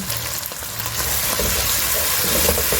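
Spiced chicken for Shinwari chicken fries in a pan while being stirred, a close, loud sizzle with scraping and rustling movements that build slightly over a few seconds.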